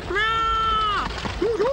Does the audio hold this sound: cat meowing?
yes